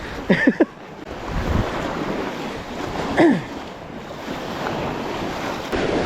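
Extreme wind sweeps across Eastman Lake during a fishing tournament, roaring steadily with rushing, choppy water and a few sharp gust bursts buffeting the microphone close up, with no speech.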